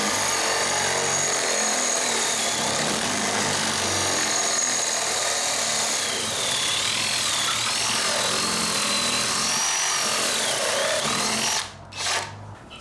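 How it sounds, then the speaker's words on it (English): A bandsaw makes an angled cut through a piece of scrap wood. The blade whines loudly and steadily for about eleven seconds, then quickly cuts out with a brief drop near the end. "I had to make my angle cut on the bandsaw"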